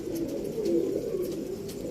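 Close, low cooing of pigeons, a continuous throaty warble rising and falling over a couple of seconds.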